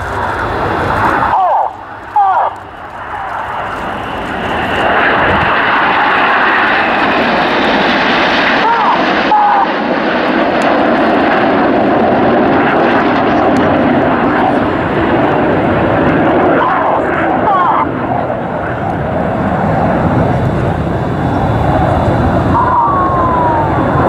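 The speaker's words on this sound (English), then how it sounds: "give the synchro pair a wave as they fly past upside down" Red Arrows jets of the synchro pair flying past in a mirror pass at an RAF Waddington air display, a loud sustained roar swelling and fading as they pass, with an announcer's voice over a public address.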